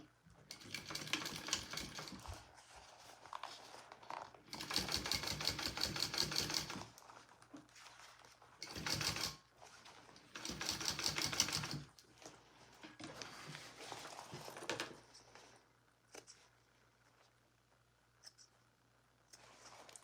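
A sewing machine stitches the gusset of a Rosie sling in several bursts of rapid mechanical chatter, each a second or two long, separated by quiet pauses; fairly close but not loud.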